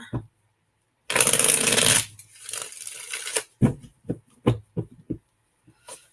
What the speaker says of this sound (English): One more shuffle for you, Christina.